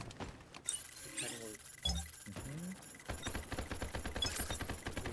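Gunfire rattles through a match of the video game Delta Force Hawk Ops in escape mode, with rapid automatic bursts in the latter half and scattered shots earlier, mixed with other game effects while players talk over it.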